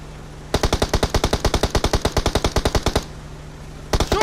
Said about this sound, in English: Shoot, Dita.